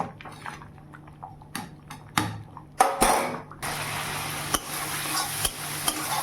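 Cumin, bay leaf, dried red chillies and grated ginger tempered in hot oil for Bengali khichuri: a few sharp metallic clanks of utensils, then a loud burst of sizzling that keeps hissing close up, with occasional clinks of the spoon.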